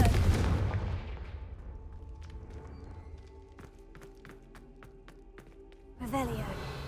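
A Confringo fire spell goes off in Hogwarts Legacy, a sharp burst of gunfire-like blasts with a short series of crisp impacts over low rumbling game ambience, followed by a louder whoosh near the end.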